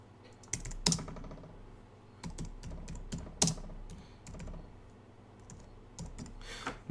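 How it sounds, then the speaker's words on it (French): Keys clatter on a computer keyboard in uneven bursts of close clicks and taps, pausing and resuming, with a few louder strikes. "Maudit que je suis pas bon pour taper sur un clavier."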